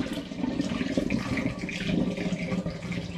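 Elderflower and rhubarb wine must poured into a glass demijohn during home brewing, a continuous close gurgling pour of liquid filling the vessel, steady throughout with no talking.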